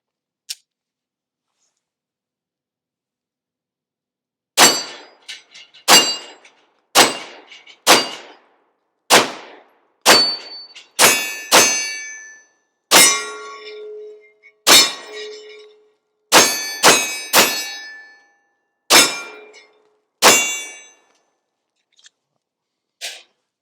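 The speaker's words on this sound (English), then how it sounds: "enough talking, let's go ahead and get to shooting." Bear Creek Arsenal Grizzly 102 firing CCI Blazer 115 grain rounds, a string of about fifteen sharp, loud, close gunshots at uneven intervals, some in quick pairs, after a few seconds of silence.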